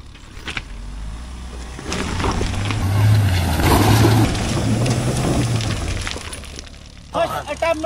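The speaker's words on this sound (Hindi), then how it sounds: "अभी गाइस मैं लेके आता हूँ अपनी थार को" A Mahindra Thar 4x4 works over an off-road obstacle, its engine a low, steady drone that swells and strains through the middle, with a voice talking nearby and some scraping and knocking noise.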